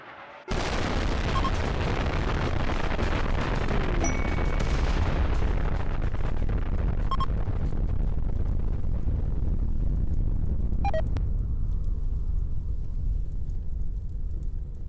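A nuclear bomb launched from a short-range mortar explodes in the RimWorld video game, bursting suddenly into a huge, loud, sustained roaring rumble that fills the whole stretch and only slowly starts to fade, with no talking.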